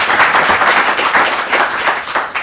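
An audience claps steadily and briskly throughout a short stretch, a dense, fairly loud patter of many hands with no voices on top.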